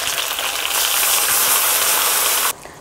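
Onion, ginger and garlic paste frying in hot oil, a loud, dense, steady sizzle close by that holds strong before dropping off sharply near the end.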